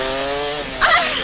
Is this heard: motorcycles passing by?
yes